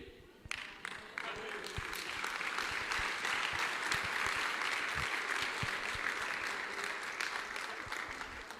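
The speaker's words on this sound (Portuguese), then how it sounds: "Você pode aplaudir" A church congregation breaks into sustained applause, many hands clapping together at moderate distance, swelling quickly and holding steady for several seconds.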